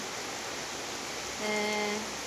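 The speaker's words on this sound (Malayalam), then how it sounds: "നിസ്കാരമൊക്കെ കഴിഞ്ഞപ്പോൾ നല്ല മഴ ഉണ്ടോ, കുറച്ച് നല്ല മഴ ഉണ്ട്." Heavy rain pours steadily as a broad, even hiss through the whole clip, with a brief louder tonal patch near the end; no one speaks.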